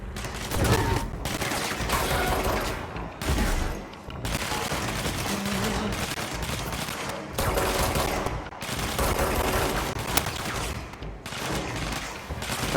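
Sustained bursts of automatic gunfire in the video game Control keep going for the whole stretch, loud and dense with only brief gaps between volleys.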